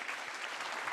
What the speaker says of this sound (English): please give another round of applause to Dr. Satapal and all the panelists